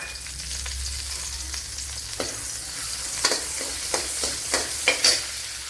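Ginger, garlic and green chillies fry in coconut oil for a bitter gourd dish, a steady close sizzle with several sharp spoon scrapes and taps in the second half.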